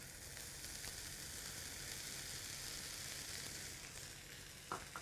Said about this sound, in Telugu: ఇప్పుడు మనం రైస్ వేసుకుంటున్నాం.